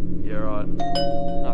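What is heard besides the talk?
doorbell ringing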